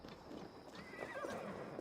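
Horses in the Assassin's Creed Valhalla video game give a clear whinnying neigh amid a rough bed of hoof clatter and battle noise, moderately close.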